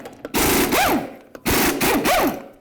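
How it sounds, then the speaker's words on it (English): Impact wrench spinning 22mm lug nuts off the front wheel of a 1988-2002 GMC Sierra 1500 pickup, two loud rattling bursts with rising-then-falling whine, each about a second long, separated by a brief pause. "We're going to remove all 6 of them using a 22mm socket."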